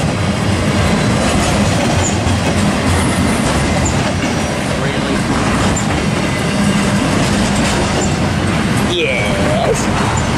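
A BNSF double-stack freight train rolls past at Tehachapi, a loud continuous rumble with rhythmic clickety-clack of wheels on rail joints. Voices are faint in the background.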